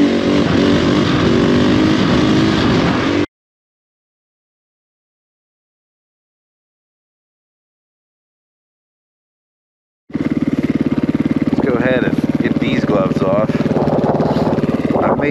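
KTM 500 EXC-F dual-sport motorcycle riding on the road, its engine droning loud and steady at the start, then cutting out to silence before returning with engine roar and shifting pitch under wind.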